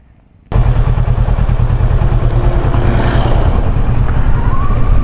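A Kawasaki Versys 650 motorcycle on a mountain road near Lake Garda comes back after a U-turn, its engine bursting in loud and close, then holding a steady throbbing drone as it passes.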